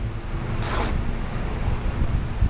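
Steady wind rumbles and buffets a microphone outdoors, with a brief hissy rustle partway through.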